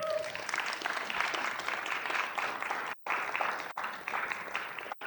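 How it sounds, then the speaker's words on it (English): Applause from an audience at a city Housing, Urban Development and Zoning Committee meeting, a steady dense clatter of many hands filling the room, loud and continuous with a few abrupt brief cutoffs. "We give him another round of applause real quick."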